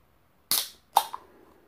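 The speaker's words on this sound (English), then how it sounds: "Okay, I opened it. Didn't really explode everywhere." A shaken BRCC Rich Mocha espresso coffee drink being opened: two sharp hissing pops from the seal releasing, close and brief, followed by a faint fizz, with no voice.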